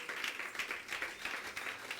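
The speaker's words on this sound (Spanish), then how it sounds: "Dale un aplauso fuerte al Señor." A church congregation at a Spanish-language sermon claps for God, a faint, somewhat distant burst of scattered hand claps with light rhythmic pulses over two seconds.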